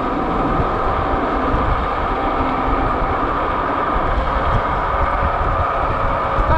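The knobby-tread tires of a Kugoo Kirin G4 Pro electric scooter produce a steady, loud rumbling roar as it rides, mixed with wind buffeting the microphone, unbroken for the whole stretch.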